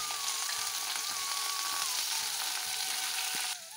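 Paneer fries in a pan with a loud, continuous close sizzle and crackle that holds steady before dropping off abruptly at the end, with no speech.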